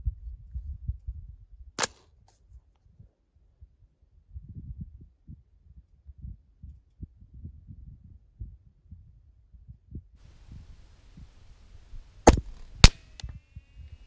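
An 11.5-inch Knights Armament SR-15 rifle fires at a long-range target, with sharp, isolated shots: one early, then a long gap with soft handling noise before a few more cracks in quick succession.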